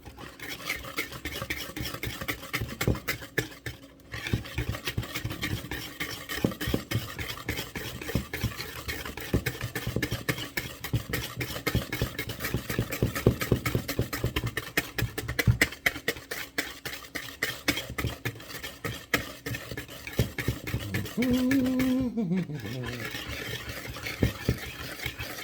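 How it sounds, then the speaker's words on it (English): Blondie batter being stirred in a bowl, a steady rhythmic scraping and swishing that continues throughout, close and fairly quiet, with no talking. "And you want to stir this until there are no lumps"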